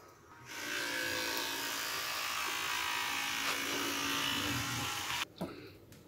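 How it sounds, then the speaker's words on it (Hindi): A toothbrush with Colgate toothpaste, heard as a steady close buzzing hum that runs for about five seconds and then cuts off, with a few faint knocks afterward. "इहनूं कोलगेट नूं खोलो ते ब्रश करो"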